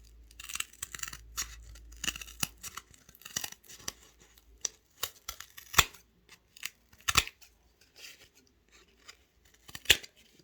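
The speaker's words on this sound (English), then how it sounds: "Just trimming a few little straight corner pieces off" Scissors snip scrap pieces into drink coasters in a quiet room, with about a dozen sharp, close cuts spread irregularly over ten seconds and soft rustling and crinkling between them.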